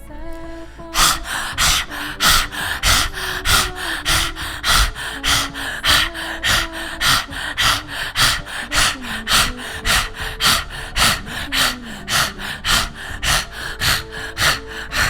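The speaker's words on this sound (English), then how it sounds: "Panting dog breath." Strong, rapid breathing in a Kundalini yoga panting-dog exercise, loud sharp breaths in a fast, even rhythm of about two per second for fifteen seconds, with background music underneath and no speech.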